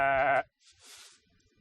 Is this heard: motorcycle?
no